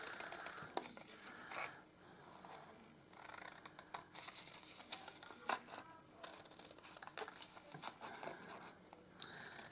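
Scissors snipping through card for Halloween creme egg boxes, a run of quick, faint close-up cuts in uneven rhythm, with no talking.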